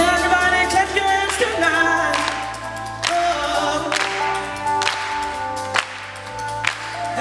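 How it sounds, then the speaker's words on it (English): A church concert audience in Amsterdam claps hands along in steady rhythm with a live gospel-soul song, sharp claps sounding over loud band music and sustained singing. "Everybody clap your hands"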